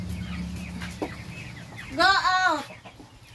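A chicken about to be slaughtered lets out one loud, squawking cluck lasting about half a second, close by, after a voice speaks.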